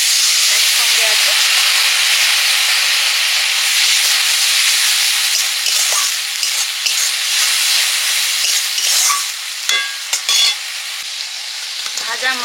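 Spice paste of ginger, cumin and coriander frying in a pan, a steady dense sizzle and hiss with scraping stirs throughout, loud and close, with small clinks near the end.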